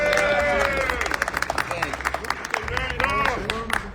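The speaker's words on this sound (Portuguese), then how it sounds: "Salva de palmas para o Irã que hoje assinou" Applause and cheering for a senator at a political gathering in Congress. Scattered clapping mixes with crowd chatter and shouting voices, loud and close, with people talking throughout.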